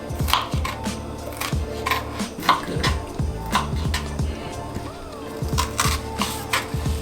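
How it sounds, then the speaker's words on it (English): A knife chops jalapeno peppers on a cutting board in a home kitchen, a steady run of close, sharp taps in quick uneven rhythm with brief pauses, no talking. "I'm going back to chopping these jalapenos"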